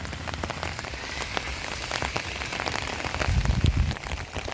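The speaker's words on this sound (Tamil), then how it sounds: "மிக முட்டத்துடன் லேசான மழை" Light rain falls on a road near a railway gate on the East Coast Road in misty weather: a dense, steady patter of drops, swelling slightly louder toward the end, with no voices.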